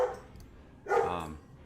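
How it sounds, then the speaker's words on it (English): A couple of dogs bark twice indoors, a short muffled woof followed by a louder, fuller bark, heard alone without talking. "I'm sorry about my dogs,"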